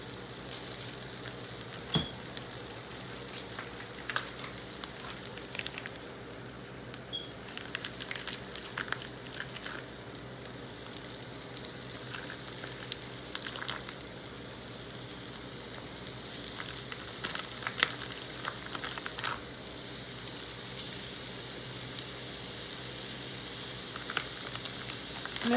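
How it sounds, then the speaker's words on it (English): Chorizo frying in a pan with onions, peppers and garlic for a sweet potato breakfast hash, a steady soft sizzle running throughout with faint crackles and stirring clinks, no talk. "So now, you guys, we're just going to add in our chorizo"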